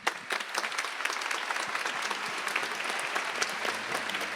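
A lecture audience applauds a curator being called to the stage after a talk, a sustained crowd of clapping hands with sharp individual claps poking out, moderately loud and without speech.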